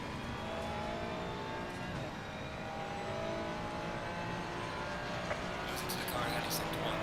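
A race car engine in the Assetto Corsa Competizione sim racing game at Valencia drones steadily throughout, with a constant, dense engine roar under a mix of other car noise and no clear pauses.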